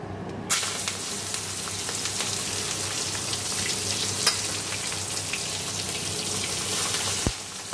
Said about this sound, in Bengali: তো আমি একটা একটা করে মাছ দিয়ে দেবো